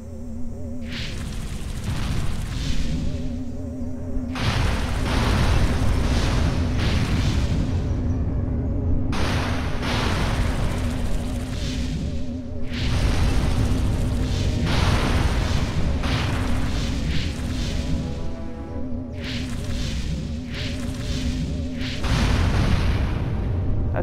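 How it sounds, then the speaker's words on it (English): A house is blown apart in the video game Destroy All Humans!, with repeated heavy booming explosions in clustered bursts separated by short lulls, loud and close throughout. "let me just destroy this house here"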